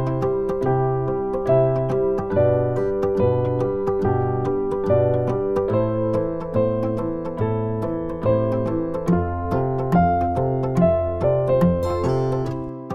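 Piano playing the chorus of a song, a bouncy syncopated chord pattern in the left hand under a clear right-hand melody, steady and close for the whole stretch.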